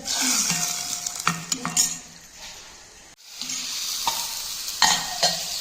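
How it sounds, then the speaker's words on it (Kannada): Spices for a turmeric tempering crackle and sizzle in hot oil in a pan, with steady stirring and light metal clinks of a spoon against the vessel throughout, fairly close and continuous. "ಒಗ್ಗರಣೆದು ಸ್ವಲ್ಪ ಚಟಪಟ ಕೂಡ"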